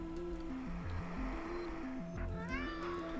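A pet cat in a space mechanic simulator game gives a short meow late in the clip, layered over steady stepping synth music.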